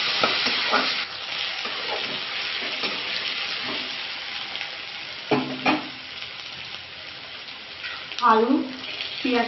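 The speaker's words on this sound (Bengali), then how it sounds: "আমি পেঁয়াজের সাথে আলুটা ভাজা করে নেব, কারণ আলুটা ভাপ দেওয়া আছে।" Steamed potatoes frying with chopped onions in a little oil with cumin seeds, dry chilli and bay leaf, a close, continuous sizzle broken by scraping stirs, with brief speech.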